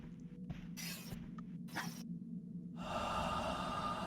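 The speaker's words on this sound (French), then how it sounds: "La respiration." Heavy breathing in the Five Nights at Freddy's horror game linked to Golden Freddy, two short loud breathy bursts over a low game drone, followed by a louder sustained hissing rush.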